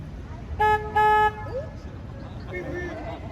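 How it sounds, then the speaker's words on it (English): Two loud tonal foghorn blasts from a river tour boat, a short one followed by a longer one, over low engine rumble, then fainter tonal sounds later. "we slow down, hit the foghorn. So here comes my horn"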